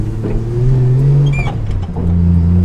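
A Ford Falcon's engine revs with a steady low drone and a brief rise in pitch, heard close up from inside the car with no talk.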